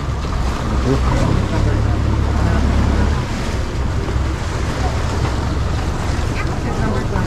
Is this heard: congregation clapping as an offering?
no